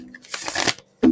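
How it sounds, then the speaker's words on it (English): Tarot cards being shuffled by hand: a brief papery riffle of cards rustling together for about half a second, close and fairly quiet, followed by a short voice at the end. "One more shuffle."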